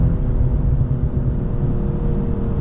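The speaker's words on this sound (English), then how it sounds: "I love the way this car sounds when you're in sport mode" A BMW M240i in sport mode drones steadily from inside the cabin during daytime driving, a loud, even low rumble that holds without a clear rev change.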